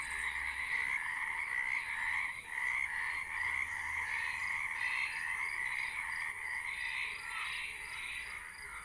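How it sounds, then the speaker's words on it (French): Frogs in a pond near a campervan parking area keep up a continuous, full chorus of croaks, close and even in level throughout, with no one speaking. "C'est une mare aux grenouilles."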